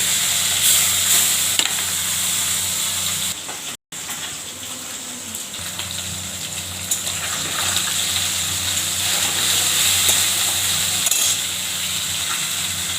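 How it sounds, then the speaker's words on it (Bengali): Salted, turmeric-coated fish frying in oil, a loud continuous crackling sizzle that drops out for a split second and then carries on steadily. "মাছটা ভেজে যাচ্ছে"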